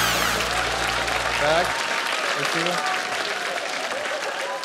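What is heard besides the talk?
audience applause at comedy show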